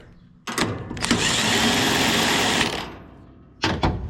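An impact wrench runs down a jam nut on a Gleaner R72 combine: one loud, sustained mechanical whirr of about two seconds, then short rattling bursts, nearby with no speech.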